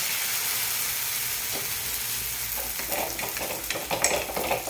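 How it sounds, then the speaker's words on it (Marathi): Plain dosa batter spread with a ladle across a hot griddle, a constant close sizzle with scraping and stirring sounds growing busier toward the end. "मी दोन पळी पीठ पसरवून घेणार आहे"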